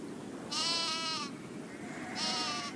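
Goats bleat in two clear, wavering calls about a second apart, near and fairly loud over a steady background hiss and low rumble.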